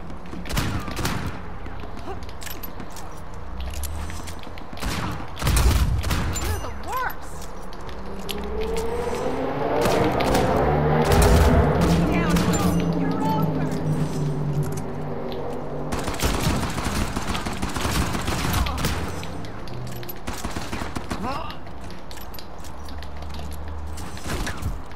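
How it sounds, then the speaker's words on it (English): Rapid gunfire in an Uncharted 4 King of the Hill online match, dense bursts of fire with repeated sharp volleys throughout, loudest mid-clip. "I'm using rapid fire on a normal game."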